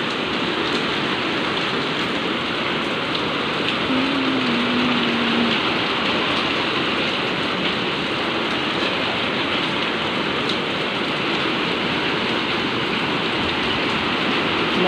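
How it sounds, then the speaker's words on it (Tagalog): Steady rain pours down on a hot Good Friday, a dense, even hiss of drops on surfaces that continues unbroken and fairly loud throughout. "Maulan nga Good Friday."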